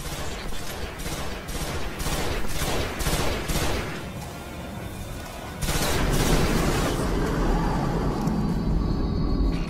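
Rapid gunfire in the video game Destiny, aimed at a shield: loud, sustained bursts of shots in quick rhythm that swell into a heavier, denser barrage partway through.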